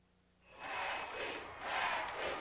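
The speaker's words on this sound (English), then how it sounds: "as we hear the crowd in the background chant nasty" A wrestling arena crowd chants in the background during a 1996 tag-team match, swelling in two broad waves of massed voices after a quiet start, distant and diffuse.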